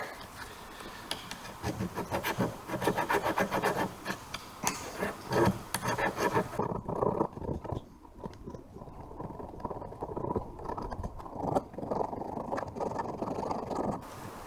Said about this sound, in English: Always good to give your terminals a cleaning.